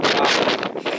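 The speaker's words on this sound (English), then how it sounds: "it's going to be really windy." Strong wind in Scotland buffets the microphone in a loud, continuous roar with gusty rises and falls.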